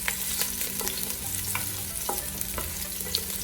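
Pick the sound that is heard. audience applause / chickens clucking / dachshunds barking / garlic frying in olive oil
garlic frying in olive oil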